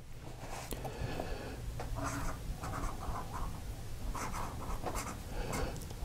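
A fountain pen with a stubbish nib scratches steadily across paper, close and continuous, in short writing strokes with a faint rough hiss throughout.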